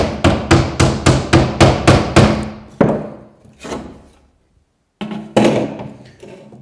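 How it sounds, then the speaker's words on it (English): Sharp claw hammer blows strike 6mm cement backer board along a cut line in a quick, even series of about nine taps, then a few slower, heavier knocks after a brief pause. "Take a claw hammer just to weaken along the cut."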